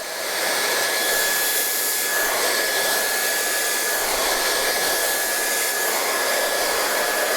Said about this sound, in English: we're actually blow drying down